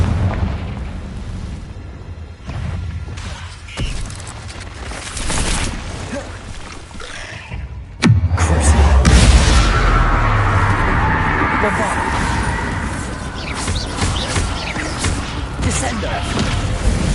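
A Confringo spell explodes in Hogwarts Legacy, a sudden loud fiery blast that rumbles and crackles for several seconds after earlier smaller impacts, with a voice speaking over it.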